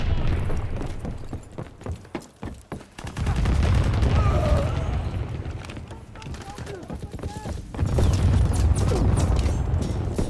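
Flak guns fire in rapid, repeated bursts during a Call of Duty WWII team deathmatch, loud close cracks and booms, some thinning out midway, then a heavy rumbling barrage returns over busy game noise.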